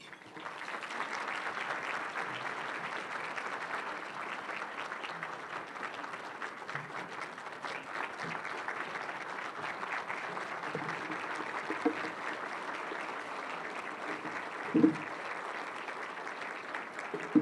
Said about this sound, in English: I always encourage people to clap ahead of time